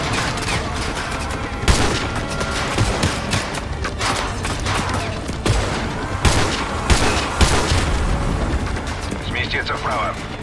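Dense, continuous gunfire and explosions fill a battle in Call of Duty: Modern Warfare 2 Remastered, with sniper shots mixed into heavy, loud combat noise. Radio voices speak over the fighting.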